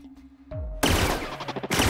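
Gunfire from the video game The Outer Worlds: a quick burst of loud, rapid shots following a brief weapon cue, dense and close throughout.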